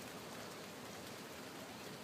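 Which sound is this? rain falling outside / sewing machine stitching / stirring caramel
rain falling outside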